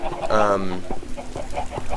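Chickens in Minecraft give a short clucking call early on, followed by scattered softer clucks and bumps, with someone talking over them.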